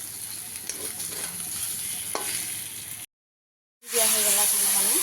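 A potato curry with spiced masala sizzles in a pan, a steady close hiss that briefly drops to silence. When water is added, it bursts back louder with a sharp, intense sputtering sizzle.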